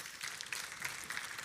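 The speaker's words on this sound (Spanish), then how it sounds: "dale un fuerte aplauso al Señor" A church congregation applauding during a sermon, a soft, distant wash of many hands clapping, faint and steady.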